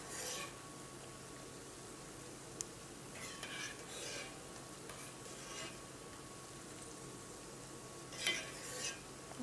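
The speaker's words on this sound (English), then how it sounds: "I will continue to stir this, and at the same time I'll fish out all of the cinnamon and the cloves that are in here." Semolina pudding with cinnamon sticks and cloves is stirred in a pot, a spoon scraping steadily through the thick mixture with soft scrapes and occasional clinks, quiet and continuous under a faint low hum.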